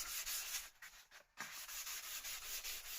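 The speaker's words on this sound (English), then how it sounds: "I'll crack on and carry on sanding it" Sanding of a wooden SME 2000 turntable plinth, a close, steady rasping rub in rhythmic back-and-forth strokes, with a brief pause midway before the strokes resume.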